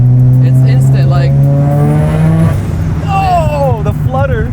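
A 500 wheel-horsepower single-turbo Mazda RX-7 revs hard and lets off, followed by a quick fluttering chatter from the turbo as the revs drop, with rising tones after.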